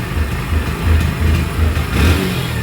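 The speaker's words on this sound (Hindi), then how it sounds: "पूरा एक्सीलेटर भी खींच रहा हूँ तो भी पिकअप नहीं ले रही है।" A BS6 motorcycle engine with a faulty throttle body revs repeatedly at full throttle without picking up, a loud, close, rhythmic rising-and-falling drone with no talk.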